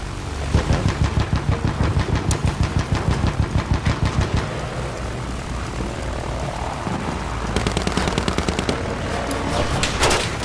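Machine-gun fire in the World War I shooter Battlefield 1, a long rapid rhythmic burst of loud close shots over a droning aircraft engine, pausing briefly, then resuming in another fast burst.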